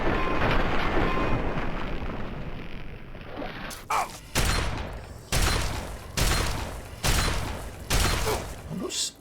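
Gunfire from Fallout 3 as a stinger creature is shot: a dense volley first, then five loud, separate shots spaced about a second apart, each ringing out alone.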